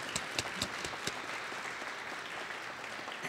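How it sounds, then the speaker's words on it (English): Audience applause at a university rainbow graduation ceremony, a steady wash of many hands clapping with a few sharper individual claps standing out. "Let's clap for them again."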